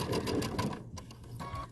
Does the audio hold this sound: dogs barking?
no